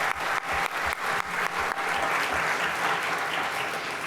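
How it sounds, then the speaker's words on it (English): An event audience at a CSUN Bull Ring pitch competition gives a round of applause for five competing teams, dense steady clapping with some sharper bursts near the start, loud and close with no voices over it. "let's give a great round of applause for all 5 of our teams"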